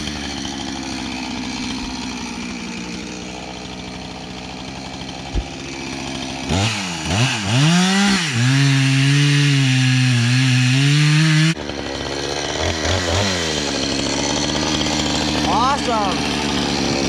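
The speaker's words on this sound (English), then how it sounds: "when you're running a chainsaw" A chainsaw carving a tree stump into a chair on a farm revs and roars loudly up close for several seconds, its pitch rising and falling, with people talking before and after.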